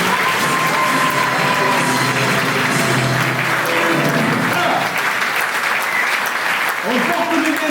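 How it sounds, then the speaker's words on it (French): An audience at a 2025 New Year's greetings ceremony applauds loudly and continuously, a dense wash of clapping with a few scattered cheers, filling the room from start to finish. "Applaudissez-le."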